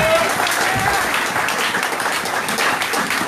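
A church congregation breaks into sustained applause at a spiritual service, dense clapping filling the room with voices calling out underneath.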